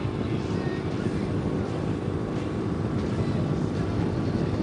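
A Ural sidecar motorcycle cruises along without a passenger and with its tonneau cover fitted, heavy wind buffeting the microphone over a steady engine drone throughout.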